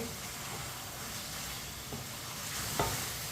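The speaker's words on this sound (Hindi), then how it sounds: "फ्राई की हुई भिंडी डालेंगे। भिंडी को भी मिक्स कर लेंगे।" Fried okra is stirred into chicken in a pan, giving a faint, steady sizzle with a few soft spoon scrapes and clicks, quiet and without voices.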